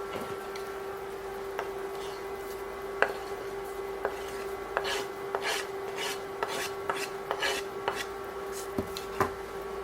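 Grated pickled cucumbers are scraped into a pot of simmering soup. Faint rasping scrapes and soft taps come in an irregular run over a steady low hum, close but quiet, with no talking.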